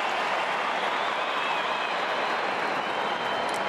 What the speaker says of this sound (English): Finally, the crowd gets something to roar about